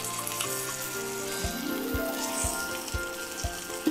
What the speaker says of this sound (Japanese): 反対側も炒めます。